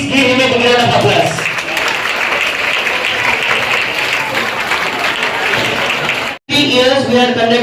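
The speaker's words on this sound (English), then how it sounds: "Please give him a big round of applause." A school audience at a Rubik's Cube competition for National Mathematics Day gives a loud, sustained round of applause for the winner, dense clapping continuing for several seconds before a brief break.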